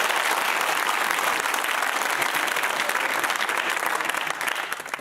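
Contestants from St Edward Hall and Edinburgh University applaud each other at the end of a University Challenge final, a dense, steady round of clapping that tapers off toward the end.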